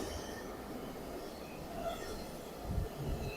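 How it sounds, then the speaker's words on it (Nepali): A train rolling along a railway line in Japan, a steady faint rumble of wheels on track with low thuds near the end, heard from some distance without talk. "यहीँबाट जान्छ ट्रेन"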